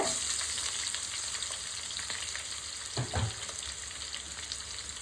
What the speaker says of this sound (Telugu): ఇవి లైట్గా గోల్డెన్ కలర్ వచ్చే వరకు ఫ్రై చేసుకోవాలి.